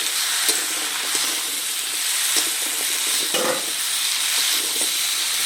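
Shrimp sizzle in a pan with pumpkin and small potatoes, a constant loud hiss of frying broken by occasional spatula scrapes and stirs, close up, no talk.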